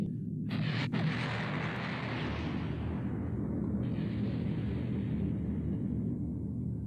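A deep, sustained explosive rumble with a sharp burst near the start, rolling on steadily like a blast echoing in a large space, with no voices.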